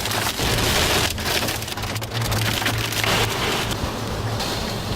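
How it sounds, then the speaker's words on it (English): Hail and heavy rain pound down during a severe storm with strong winds, a dense loud continuous patter with hard rattling impacts throughout. "Hail and rain."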